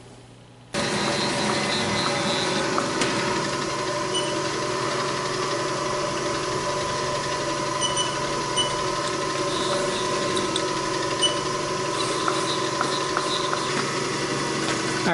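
A Haas tool room CNC mill runs with an edge finder mounted, a steady loud mechanical hum and whir starting abruptly and holding throughout, with faint clicks and ticks.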